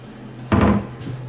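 A kitchen cabinet door beneath a drawer is opened once with a short wooden knock and rattle, followed by a fainter second bump about half a second later, heard close against a low room hum.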